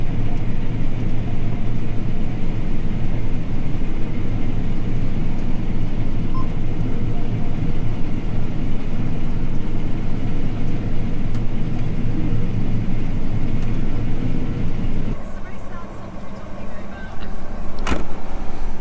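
A combine harvester engine roars loudly and steadily as it revs for most of the stretch, then drops in level near the end as the machinery noise shifts.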